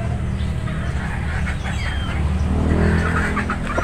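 A backyard-bred gamefowl chicken clucks in low, repeated bursts close by, with steady outdoor background noise and no talking.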